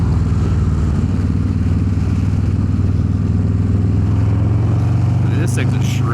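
A Harley-Davidson Low Rider S with a 131 engine cruising around Raleigh, NC: a steady, loud, deep engine drone that rumbles without a break, with a brief clatter near the end. Someone talks over it.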